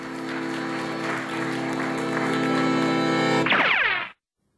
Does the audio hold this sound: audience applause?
yes